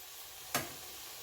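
Okra frying in a pan for country fried okra, a soft steady sizzle with one brief scraping burst near the middle as a spatula flips the pieces.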